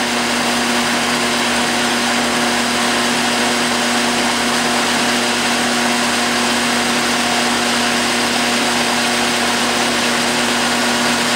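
A metal lathe turns a Morse taper in soft aluminum without lubricant, giving a steady, loud machine hum with constant tonal lines and a broadband whir throughout, with no talking.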